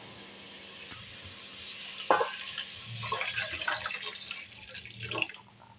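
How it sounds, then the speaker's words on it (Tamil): Milk poured from a cup into a pan of sautéed grated carrot for carrot halwa, a soft trickling and splashing pour that builds over a few seconds, close by, with no talking. "நான் வந்து 2 கப் பால் சேர்த்த போகிறேன்"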